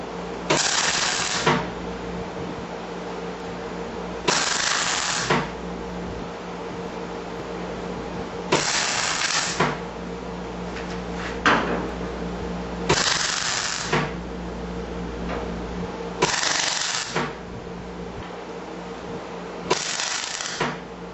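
Tack welding on a 1979 El Camino body gives six separate bursts of crackling, hissing arc noise, each a second or so long and evenly spaced, with quiet shop hum between them.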